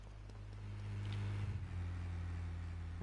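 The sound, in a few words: vehicle in GTA trilogy video game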